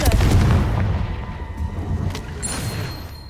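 The Confringo explosive spell in Hogwarts Legacy goes off as a sharp, booming blast, followed by a rumbling, crackling decay and a second fainter burst, with no voices.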